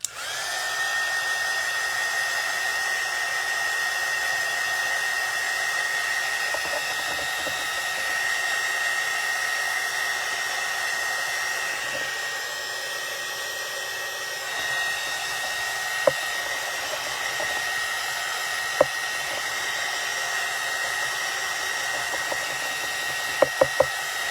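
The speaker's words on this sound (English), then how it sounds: "This is just a little heat gun, but you can use a hair dryer or whatever." A small heat gun drying paint blows continuously with a steady whine and airy rush, close and loud, with a few faint clicks near the end.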